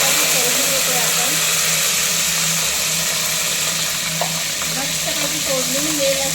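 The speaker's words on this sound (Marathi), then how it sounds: "कढीपत्त्याची फोडणी देतो आपण." Mustard seeds, cumin and curry leaves crackle in hot oil for a tempering, a loud continuous sizzling hiss with faint low kitchen hum beneath and no voices.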